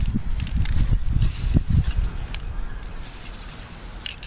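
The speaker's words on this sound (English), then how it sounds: "Don't spray like that because it'll get all goopy" A spray can sprays paint on a workbench being restored, with two hissing bursts, the second long and steady, alongside handling and shuffling noises close by.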